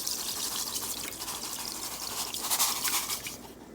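Salt pours into water and meat in a container to make a brine for Canadian peameal back bacon, giving a soft, continuous granular hiss that fades out at the end.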